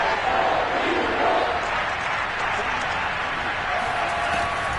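A football stadium crowd at an NFL game between the 49ers and Eagles roars steadily ahead of a big third down, a dense, continuous wash of cheering that holds at the same loud level throughout.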